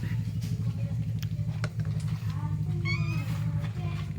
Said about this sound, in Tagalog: Gutom na yung aking alagang pusa.